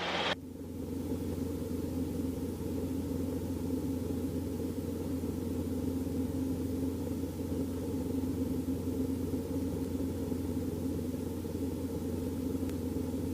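Steady helicopter engine and rotor rumble heard from inside the cockpit during a training flight, a constant low drone lasting throughout with no talk over it.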